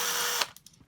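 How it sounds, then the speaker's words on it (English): A power screwdriver whirs steadily while taking screws out of a pedestal fan during a repair, then stops abruptly and leaves a few small clicks and rattles of parts. "We've got to get these 4 screws out."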